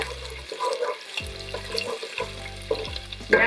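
Hot oil crackles and pops in a frying pan while cooking arroz con gandules, a steady close sizzle with sharper spits and a few low clunks of the pan or utensil.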